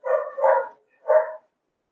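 Dogs bark three times in quick succession, two close together and one after a short pause, heard fairly near and clear with no talk over them.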